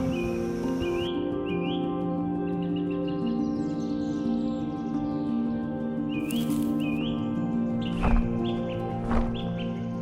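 A large hornbill calls in a tropical rainforest, its loud repeated honking notes carrying over a dense chorus of other birds and insects, with a couple of sharper bursts near the end.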